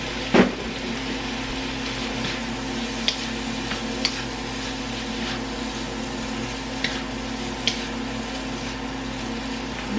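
Boiled intestines tipped into a pan and stir-fried, a steady sizzle running throughout with a sharp clatter at the start and occasional light scrapes and taps of a utensil.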